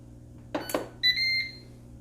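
Ninja Foodi multicooker being switched on in sauté mode: two quick button clicks, then a steady electronic beep of about half a second, over a low background hum.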